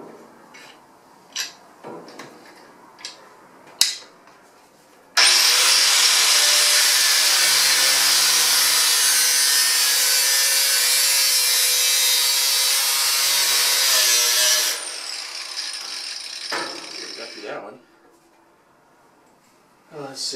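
Steady, loud sawing through a wooden aircraft fuselage runs unbroken for about ten seconds, with scattered knocks and handling noises before and after.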